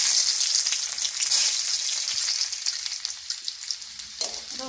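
Garlic frying in a pan for a dish of greens, a close, steady hiss and sizzle that eases slightly toward the end, with faint stirring.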